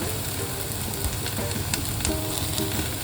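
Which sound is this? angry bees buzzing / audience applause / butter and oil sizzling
butter and oil sizzling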